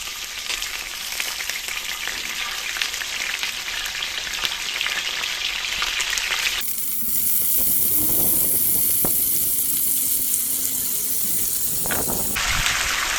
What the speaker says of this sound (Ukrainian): Починаємо обсмажувати.